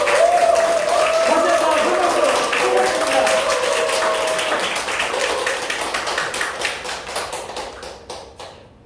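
Audience at a company sales training session applauding as a regional branch manager is welcomed, dense clapping that starts under a voice speaking, then thins into sparser separate claps and fades out.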